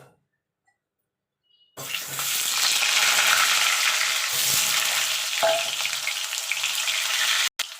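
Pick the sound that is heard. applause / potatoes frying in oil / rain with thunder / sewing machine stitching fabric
potatoes frying in oil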